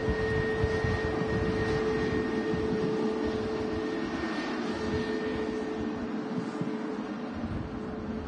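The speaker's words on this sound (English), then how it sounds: "Got the Welsh EasyJet, Lima, heading off to Sharm el Sheikh" EasyJet airliner departing Manchester Airport, a steady, broad jet engine roar heard from outside near the runway, fairly constant and slightly distant with a faint whine over it and no talking.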